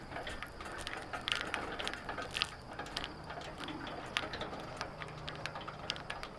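A ratchet crank on an EZYLoader trailer clicks repeatedly in quick, fairly even bursts, close and moderately quiet, with no talk.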